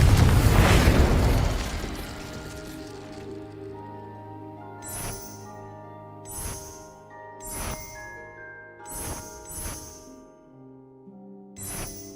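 A Confringo blasting spell explodes in the Hogwarts Legacy video game: a loud rumbling blast that fades over a few seconds, followed by a series of sharp, bright magical bursts and chimes at steady intervals.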